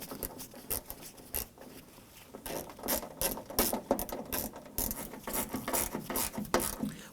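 A ratchet tightens door handle reinforcement bolts on a 2008-2011 Ford Focus, with rapid clicking strokes in repeated bursts, close and fairly quiet, no voices.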